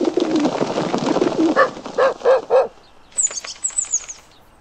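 Pigeons in a children's picture-book app give a run of soft, rounded coos, followed by a brief burst of flapping wings; no one speaks.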